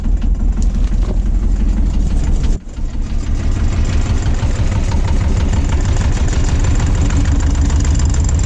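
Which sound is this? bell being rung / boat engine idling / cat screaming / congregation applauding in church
boat engine idling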